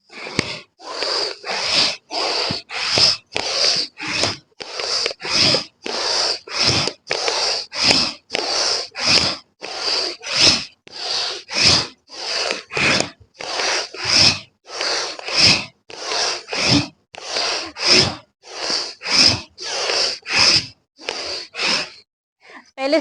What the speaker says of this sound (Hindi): जिस तरह से मेरी सांसों की आवाज आ रही है उसी तरह से आपकी सांसों की भी आवाज आनी चाहिए